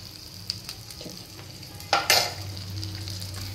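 Flour roasts in melted butter in a pan, giving a low steady sizzle with light spoon scrapes and a couple of louder stirring clatters near the end, close up and without talk.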